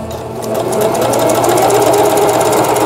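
A domestic Singer sewing machine stitching, a loud close continuous rapid whirring rattle of the needle running steadily for a few seconds.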